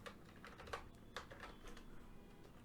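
Light keystrokes on a computer keyboard, a few separate soft clicks spread over a couple of seconds, faint and close by with no talking.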